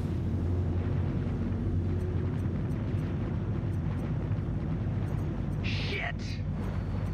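Cannons on a Constellation ship fire in Star Citizen, a dense rumbling barrage under constant low engine roar, with a couple of sharp bright bursts near the end.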